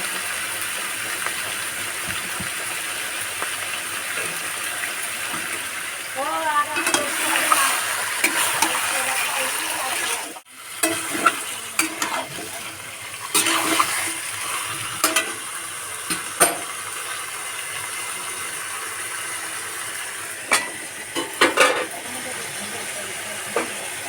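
Green chilies frying in a pan during Bengali home cooking, a continuous hiss and sizzle with intermittent stirring clatters and a brief pause midway.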